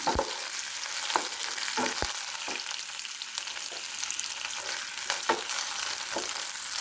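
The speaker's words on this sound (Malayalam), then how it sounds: "വെളുത്തുള്ളിയാണ് ചെറിയ ഫ്ലെയിമിലാണ് ഇട്ടിരിക്കുന്നത് ഇതൊന്ന് ചെറുതായിട്ടൊന്ന് ആയി വരണം ബ്രൗൺ കളറായി വരണം" Garlic fries on a low flame with curry leaves in a steady, close sizzle and crackle, broken now and then by light taps of a stirring spoon against the pan, with no voices.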